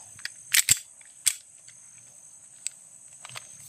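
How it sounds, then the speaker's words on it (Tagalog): Sharp mechanical clicks and clacks of a gun being readied in a video game, a quick cluster followed by a few isolated clicks over a steady high electronic tone. "Handa ko muna yung baril ko."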